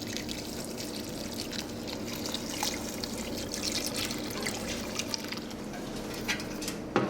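Water trickles and pours steadily while houseplants are watered, a soft continuous splashing dribble close by with faint drips and no voices.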